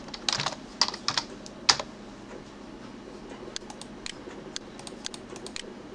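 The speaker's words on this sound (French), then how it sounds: "Je devrais pouvoir taper un prénom." Fingers typing a first name on a computer keyboard, a few close key clicks at first, then lighter scattered taps, fairly quiet.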